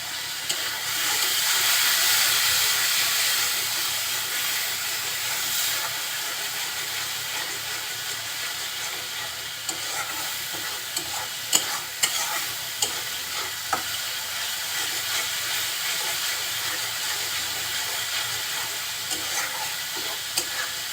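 Spices with turmeric fry in oil for a pabda fish curry, giving a continuous bright sizzle with scattered clicks and scrapes of stirring. The sound is close and steady throughout, with no voices.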